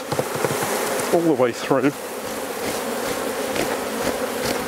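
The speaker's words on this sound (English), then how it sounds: "Good firm shake. Get rid of as many bees as we can." Honey bees buzz in a continuous hum as hive frames are firmly shaken during a shook swarm, with someone briefly speaking over the swarm.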